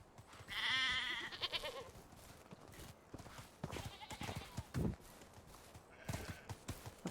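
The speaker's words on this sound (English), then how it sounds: "We keep sheep and goats" Sheep and goats on a farm in the Medieval Dynasty video game bleat in a few short, quavering calls amid soft hoof clatter and faint rustling.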